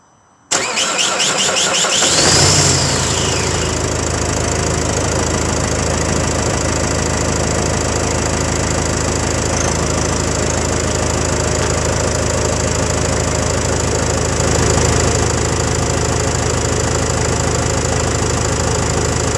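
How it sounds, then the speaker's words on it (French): A diesel truck engine cranks and fires, then settles into a steady, loud, smooth idle with a constant rumbling knock that continues without a break. "Et maintenant, on va passer au démarrage. Au démarrage du camion."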